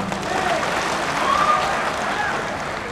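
A crowd at a political rally speech claps steadily in sustained applause, dense and even throughout, with faint shouts rising over it.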